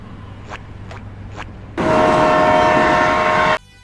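Three faint horn-like blips, then the GO Liner train rushes past with a steady roaring rumble and a tonal whistle for about two seconds before cutting off.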